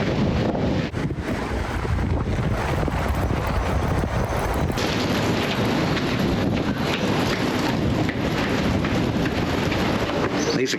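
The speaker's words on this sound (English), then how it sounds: "it's still really windy in Tassie" Strong wind in Tasmania blows steadily, roaring and buffeting across the microphone throughout, a constant rushing noise with no clear pauses.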